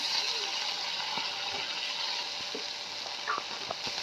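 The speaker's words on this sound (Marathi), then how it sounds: "आता तेल टाकलं तडतड उडतात." Hot oil crackles and spits as fenugreek leaves fry on a wood-fired clay stove, a close, steady sizzle broken by scattered sharp pops.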